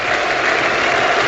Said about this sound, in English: Just listening to the crowd, I think they're shouting out Yorkshire